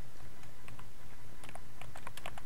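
Fingers typing PHP code on a computer keyboard, a quick, uneven run of close key clicks that grows busier toward the end, with no talk.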